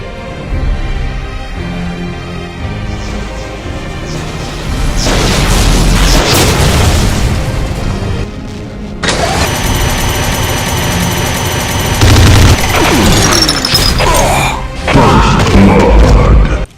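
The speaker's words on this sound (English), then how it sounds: "the legendary BFG projectile, which functions similar to the Devastator shot, but this time it fires way more projectiles during flight, and it is wider, and on point of impact, it emits a damage-lasting explosion" Heavy, booming explosions from the BFG projectile in a Doom mod video game fighting Cyberdemons, loud blasts and rumbling bursts layered over roaring weapon fire and game music, surging in several waves.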